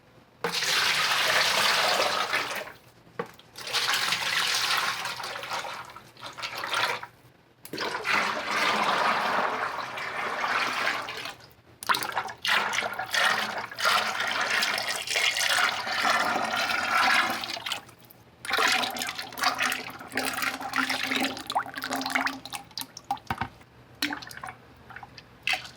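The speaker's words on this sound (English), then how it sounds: "measure out all of our oils per bucket and go ahead and pour it in" Soap-making oils such as olive, castor and sweet almond oil poured from one bucket into another, a sustained gushing, splashing stream in several long pours separated by brief pauses, close and fairly loud.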